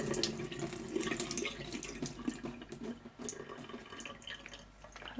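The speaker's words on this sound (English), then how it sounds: "Let's drain the tofu." Water splashes and trickles steadily as liquid is drained from a block of store-bought tofu, close with continuous pattering and dripping at a moderate level and no talking.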